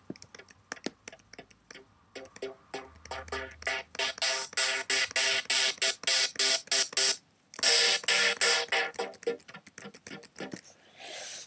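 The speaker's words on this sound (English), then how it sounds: "this tutorial is going to be on a pluck sound which turns into a huge pad" A super-saw synth patch built in Massive starts as rhythmic plucked stabs that grow louder and brighter, then swells into a wide, sustained pad after a brief gap.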